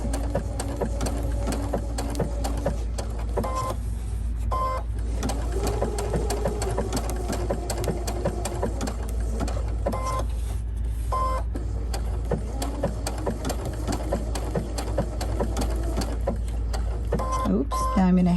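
Sewing machine stitching a fusible appliqué quilt block, a steady continuous mechanical whir with dense rapid needle chatter that pauses briefly a few times as the work is pivoted.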